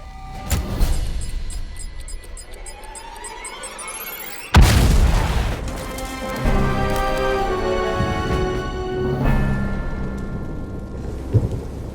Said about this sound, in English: Sid managed to survive that explosion while standing right next to the tank